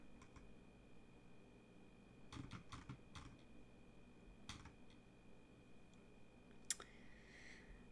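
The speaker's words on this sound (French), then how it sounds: "le bruit du clavier est agréable" Clicks of typing on a computer keyboard come in short bursts of quick keystrokes with pauses between, fairly quiet and close, with no talking.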